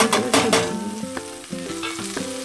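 Red lentils and ginger sizzle in a pan as they are stirred for khichdi, with a close, even frying hiss beneath louder melodic background music.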